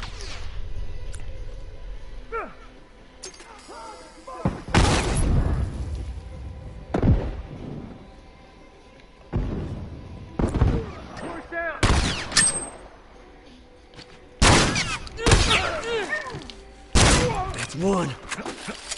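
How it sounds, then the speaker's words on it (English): Gunfire rings out in a multiplayer match of The Last of Us, with an opponent shooting from a fountain: loud, sharp broadband blasts in separate bursts and quick runs, mixed with a player's voice talking in between. "He's in the fountain shooting at me."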